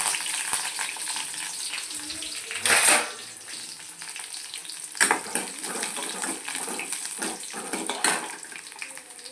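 Mustard seeds, cumin, chopped onion and curry leaves sizzle in hot oil in a kadai on a stove, a steady close crackle with a few louder bursts as ingredients hit the pan, no talking.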